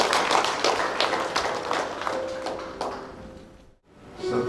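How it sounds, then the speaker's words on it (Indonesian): A congregation claps at a church wedding ceremony in Jakarta, steady moderately loud applause that thins out, drops to a brief near-silence, then picks up again at the end. "Tepuk tangan untuk Tuhan"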